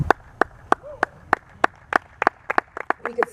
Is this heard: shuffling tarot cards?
no